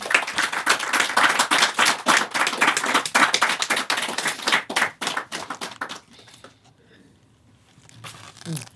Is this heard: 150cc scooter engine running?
no